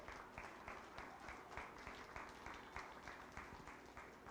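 Crowd applause at a county 4-H fair meat goat show, a steady sustained patter of many hands clapping, distant and faint in a large space, with no speech over it.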